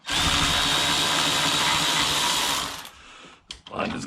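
A power drill spins a loosened Torx bolt out of a Jeep TJ. The whine is loud, close and steady for about two and a half seconds, then cuts off and is followed by a few faint clicks and handling noises.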